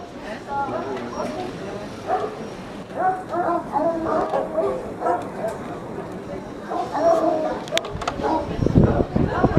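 A pack of about 60 young hunting hounds barks and yelps in a continuous, overlapping chorus, fairly close, with a loud burst of noise near the end, at a hunting festival in Moulins.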